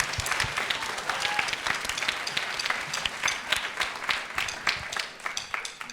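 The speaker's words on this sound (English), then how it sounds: "Give them all a round of applause." An audience at a middle school winter concert applauds steadily, with dense, continuous clapping from a crowd in the hall that stays fairly even throughout.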